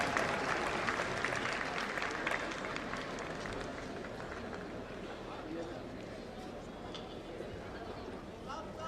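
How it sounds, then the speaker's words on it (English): Audience at the Hornbill Festival cultural program applauding a Sangtam cultural troupe, an outdoor crowd clapping steadily and fairly distantly, gradually thinning, with chatter mixed in. "Shall we give them a big round of applause?"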